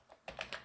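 Typing on a computer keyboard, a few soft quick keystrokes in a brief burst, faint and close, with no voices.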